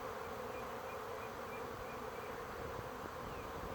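A swarm of honeybees buzzes in the open air, a dense, steady drone of many wings at moderate distance with faint individual bees passing, no voices.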